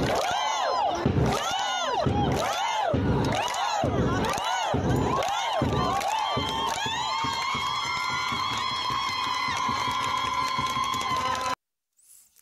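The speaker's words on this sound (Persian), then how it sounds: "تشویق ایسلندی بازیکنان ملوان بود که با هم دیدیم" Malavan football players perform the Icelandic thunder clap, about nine loud, evenly spaced booming claps and chants from the group, followed by sustained crowd cheering in a stadium.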